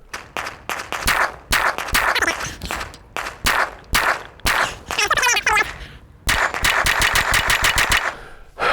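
An AR-15 rifle with a Bear Creek Arsenal complete upper firing at a range, loud rapid shots in irregular bursts and strings with brief pauses, a dense fast volley near the end.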